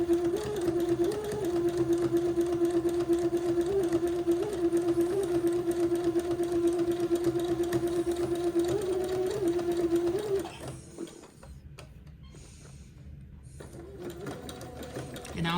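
A sewing machine runs a steady zigzag stitch along a fold of fabric, joining it to entre-deux ladder trim on a baby girl's layette garment. It hums continuously for about ten seconds, then stops, leaving quiet handling sounds.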